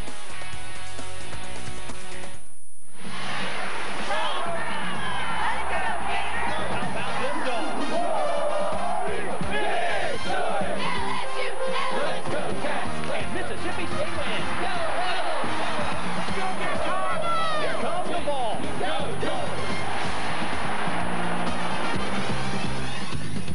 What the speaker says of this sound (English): The crowd beginning to file in to downtown Birmingham's BJCC Arena